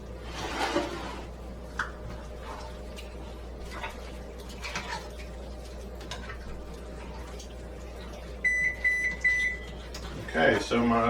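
Kitchen oven finishing its preheat to 325 degrees gives a short series of thin electronic beeps near the end, following a stretch of quiet household background with faint clatter.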